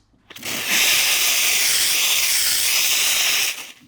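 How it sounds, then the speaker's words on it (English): A Lelit Bianca V3 espresso machine's steam wand lets out a loud, steady hiss that starts abruptly, holds evenly for about three seconds and then cuts off, with nothing else heard. "And this steam wand, this is a beast."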